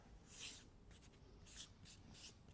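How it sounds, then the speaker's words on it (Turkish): A pen scratches across paper in a few quick bursts of scribbling, very faint and close, with short pauses between strokes and no voices. "Kalem sesinden çok uzun olduğunu anlayabiliyorum."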